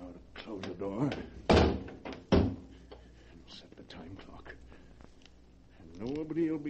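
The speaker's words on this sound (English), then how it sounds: "Now to close the door." A heavy vault door in an audio drama is shut with two loud, close thuds in quick succession, between stretches of someone speaking.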